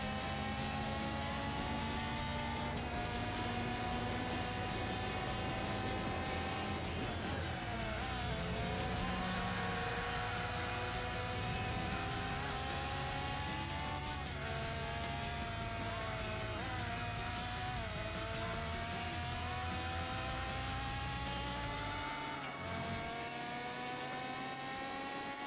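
Race cars in Gran Turismo 4, including Audi, Calibra, Alfa and Astra, hum and whine continuously at a steady level, their engine pitches rising and falling through shifts for over twenty seconds without talk.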